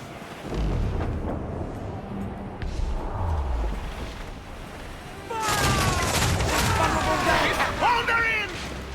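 Ship cannons fire in an Assassin's Creed naval battle set in 1717, a rolling volley of heavy booms over wind and sea noise, with shouting crew voices and a louder burst later on.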